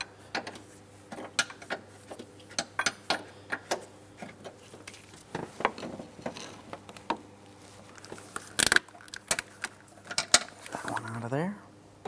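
An open-end wrench works on transmission mount bolts of a 2008-2016 Chrysler Town & Country 3.8L V6, producing scattered close metallic clicks and taps with faint low hum, with one brief sharp clank near the end.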